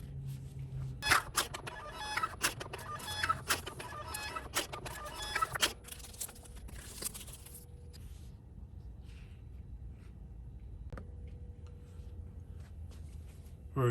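A Brother DK thermal label printer runs Enko labels, giving a burst of rapid clicking and whirring feed noise for about six seconds, then a few isolated clicks over a low steady hum.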